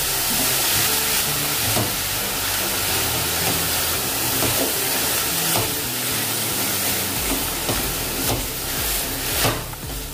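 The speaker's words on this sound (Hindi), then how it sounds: "और थोड़ी देर पालक को भी हम भूनेंगे अभी बेसन के साथ।" Finely chopped spinach frying with gram flour (besan) in a pan, a loud, constant hiss with scattered scraping knocks of a stirring spoon and no voices.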